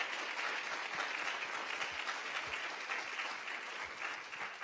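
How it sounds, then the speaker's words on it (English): Steady round of applause from an audience at an evening event following a panel conversation, dense even clapping sustained throughout at moderate distance, with no talking over it. "Let's give another round of applause for these"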